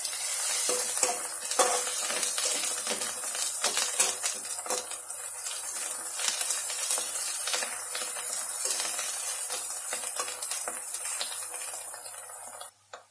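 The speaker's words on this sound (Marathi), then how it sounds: "परत एकदा चांगलं परतून घ्यायचंय।" Spices sizzle and fry in ghee as a tempering for dal khichdi, a continuous close, loud crackling hiss with occasional spoon scrapes against the pan, running without pause until it cuts off at the end.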